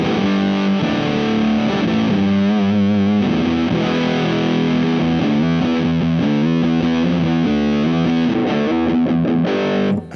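An electric guitar on its bridge pickup plays a riff through a Dopamine dual stage fuzz pedal. The tone is thick and saturated and fills the whole stretch, with sustained chords and moving notes up close, with no talk.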